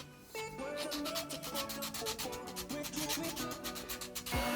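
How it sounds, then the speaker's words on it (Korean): A 3D pen-drawn plastic shape is rubbed with fine sandpaper, giving rapid, rhythmic scratchy strokes at a steady pace under tonal background music. "3차로 고운 사포를 가져와 작업을 해줬습니다"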